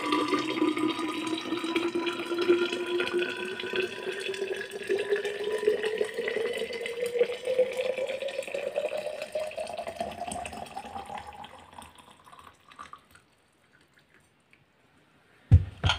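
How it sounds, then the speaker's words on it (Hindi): Hot water poured into a Cello 1000 ml thermos flask, a steady close pouring stream whose pitch rises as the flask fills, then stops, followed by near silence and a brief clunk at the end. "अभी इसको डाल देते हैं थर्मस में"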